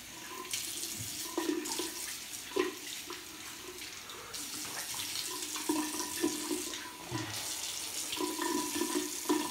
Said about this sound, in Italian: sciacquatina al viso con acqua fredda